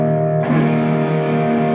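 A sustained, high-gain distorted electric guitar chord rings out loud and saturated, with a brighter attack partway through and a thick buzzing sustain.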